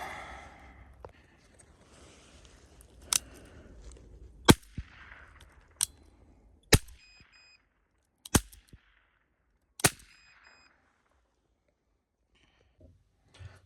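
Series of sharp, isolated revolver shots from test firing, spaced a second or two apart, about eight cracks in all, fairly distant with quiet gaps between them.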